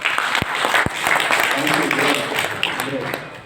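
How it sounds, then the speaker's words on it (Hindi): Applause from an audience at a Dahua technology roadshow in India, a dense patter of clapping running throughout with a couple of sharp low thumps near the start and voices mixed into the crowd. "पहले तालियां बजा दो यार"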